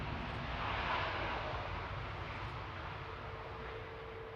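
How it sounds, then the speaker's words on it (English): An Airbus A350-1000 jet airliner arriving at Manchester Airport, heard as a steady, broad engine roar that holds level throughout, slightly distant, with no talk. "This is an A350 1000."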